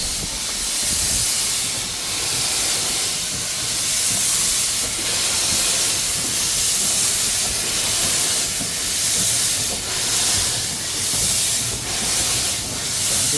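Loud, continuous steam locomotive noise heard from the cab on a heritage railway in Kent: a strong hiss with rhythmic chuffing pulses and rolling rumble throughout.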